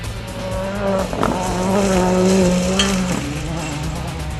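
A rally car on a gravel stage in St. Peter, Barbados, nearly tips over, its engine revving hard and tires squealing and skidding, loud and close, with no one talking.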